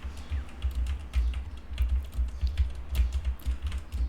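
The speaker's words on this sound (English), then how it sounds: "Right now I'm using my keyboard and putting it behind the mic. By the way, this is a mechanical keyboard." Typing on a mechanical keyboard with red switches, placed behind a HyperX SoloCast microphone: a steady run of soft, muffled keystroke clicks with a low thumpy body, continuous for several seconds with no talking.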